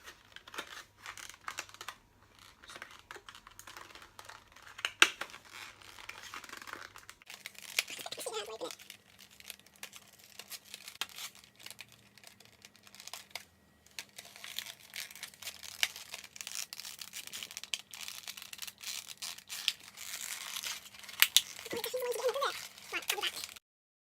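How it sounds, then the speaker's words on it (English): Scissors hack and crinkle at stubborn plastic eyeliner packaging, giving irregular close snips, rustles and crumpling across the clip, with a steady low hum in the background. "I had to get a pair of scissors and like just hack at it."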